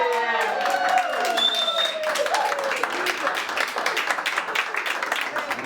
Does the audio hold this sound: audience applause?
yes